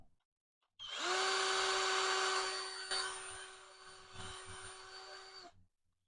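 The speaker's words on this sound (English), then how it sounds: "We're going to bore out the center of this with this file." Ryobi lathe spinning a metal fitting while a file bores out its center, producing a loud, steady motorized whine with a strong tone that starts abruptly, dips slightly midway and cuts off after about five seconds.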